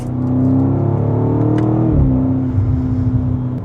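A BMW X5M Competition SUV with a ZF 8-speed automatic accelerates hard off the line, its loud engine droning steadily and rising, with a brief dip around a gear change partway through, up close from inside the cabin.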